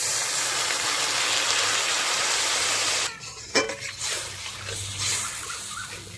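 A steady hiss of fried spice paste in a pan cuts off sharply when a little water is poured in, leaving a softer bubbling sizzle with a few clatters.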